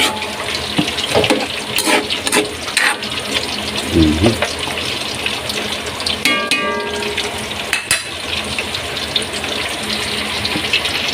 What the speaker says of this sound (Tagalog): nilagay po natin tubig na mainit galing sa thermos